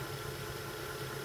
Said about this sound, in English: the little dinky starter generator motor over there is just spinning right along